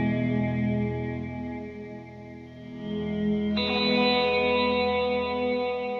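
An ambient electric guitar played through an Echo Park delay and bright reverb with a long decay setting swells in as layered, sustained tones. A brighter chord blooms partway through and rings on without any voice.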